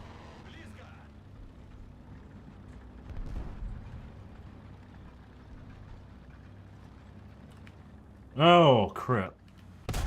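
Tank cannon firing in the War Thunder video game: one sharp, loud boom with a ringing tail near the end, after a low engine rumble, while someone speaks briefly.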